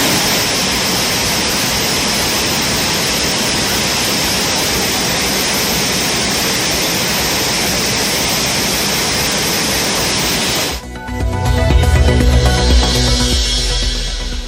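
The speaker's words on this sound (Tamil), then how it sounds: "திருப்பரப்பு அருவியில் வெள்ளப்பெருக்கு" Thirparappu waterfall in flood after dam water release: a loud, unbroken roar of rushing water for about eleven seconds, then a sudden cut to a different, lower rumbling sound.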